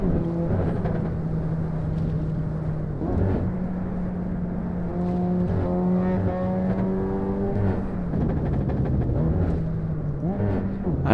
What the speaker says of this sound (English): I like the exhaust pop.